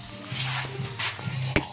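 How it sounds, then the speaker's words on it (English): Seafood sizzling in a frying pan on a kitchen hob, a steady close crackle and hiss with faint stirring scrapes and one sharp clack near the end. "You see it sizzling away like a good one in here."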